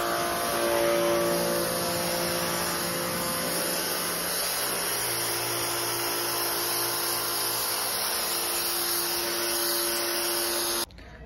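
A K330 pressure washer runs after a check valve replacement, its motor giving a steady, loud, high-pitched whine with a hissing spray, continuous for about eleven seconds before cutting off abruptly at the end.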